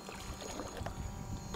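A 2018 ZSRNC waterbike engine runs steadily on open water while still cold, a continuous close droning hum with splashing and wash underneath, no talk.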